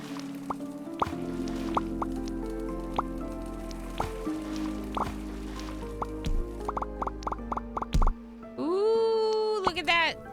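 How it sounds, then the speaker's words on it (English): Crop watering in the casual farming game Happy Sheepies, a run of cartoonish drips, plops and squishy splashes over light game music, ending in a rising chime-like flourish. "now let's water crops while they're sleeping"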